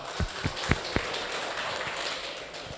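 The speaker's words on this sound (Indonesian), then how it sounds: "Terima kasih, tepuk tangan buat kita semua." An audience at a village community inauguration and assessment event applauds, a dense, sustained patter of clapping with a few louder individual claps near the start.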